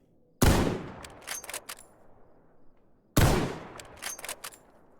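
Gunfire in a first-person shooter video game: two loud, sharp shots about three seconds apart, each followed by a quick rattle of smaller crackling bursts, with no talk.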